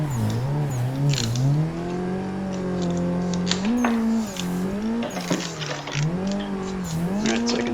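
A car drifts around the Sportsland Yamanashi circuit, its engine loud and close, rising and falling in pitch as the throttle is worked, with bursts of tire squeal on top.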